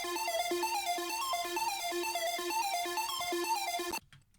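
Bright synth melody from a Serum preset, a repeating pattern of plucky notes over a steady bed, loud and alone for about four seconds before cutting off abruptly into near silence.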